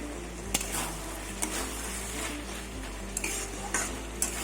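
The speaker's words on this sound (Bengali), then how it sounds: "ঢেকে ঢেকে আমি পুরো কষিয়ে নেবো" Fig (dumur) curry being sautéed and stirred in a pan for a vegetarian dish, a steady close sizzle of frying under repeated scraping strokes of a spoon against the pan, with no talking.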